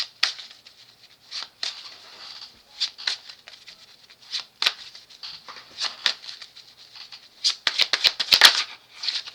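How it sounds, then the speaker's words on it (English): Tarot cards are shuffled by hand in soft, irregular riffling and patting bursts, close and fairly quiet, growing busier toward the end, with no talking. "don't shuffle no more. What about the shuffle?"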